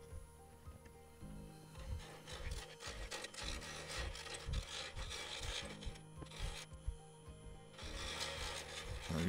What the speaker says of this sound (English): I'm using the Hercules, I think it's a number 3, roughing gouge